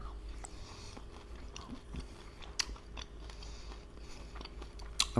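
Crunchy Egyptian dish being bitten and chewed, crisp outside and creamy middle, soft close crunches and chewing sounds with a few sharper bites amid quiet room noise.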